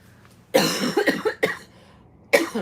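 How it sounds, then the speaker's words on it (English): Harsh coughing up close: a long fit of several coughs, a short pause, then one more cough burst. "I'm gonna cough"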